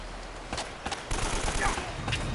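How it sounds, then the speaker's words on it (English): Gunfire in the video game Uncharted: Drake's Fortune: loud bursts of rapid shots crackle over a dense background of game noise, continuous and close throughout. "Stop shooting at me."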